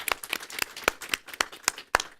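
A small group claps at a business briefing, scattered individual hand claps spaced unevenly over a couple of seconds, fairly faint and sparse rather than a full round of applause, with no talk.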